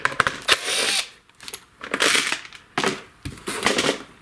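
Plastic cover being pried and pulled off a worn STIHL chainsaw, a run of close, sharp clicks, scrapes and rattles in short bursts with brief pauses between.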